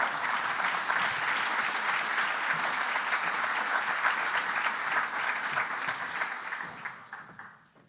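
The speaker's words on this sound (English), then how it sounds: "bring up to the stage the man who needs no introduction, Admiral Bob Inman." An audience applauds to welcome a speaker onto the stage at a counterterrorism event. Dense, steady clapping from a sizable crowd runs for several seconds and then tapers off and fades out.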